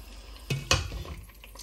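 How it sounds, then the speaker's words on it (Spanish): Oxtail bone frying in olive oil in a pot over very low heat, with two sharp utensil clinks against the pot over a soft, steady background hiss. "Estoy sofriendo el hueso de rabo de toro o cualquier hueso de carne con aceite de oliva"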